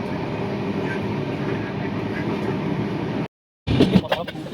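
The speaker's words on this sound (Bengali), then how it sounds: "আমাদের ট্রেন একটা বড় নদী পাস করছে, দেখতে পাচ্ছ ব্রিজের উপর দিয়ে" Steady broadband rumble and clatter of the Howrah–MGR Chennai Mail train crossing a bridge over a big river, loud and continuous, then briefly cut off before rattling resumes with sharper knocks.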